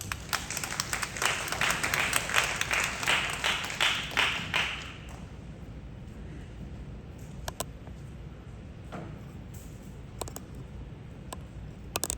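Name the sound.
audience applause welcoming a performer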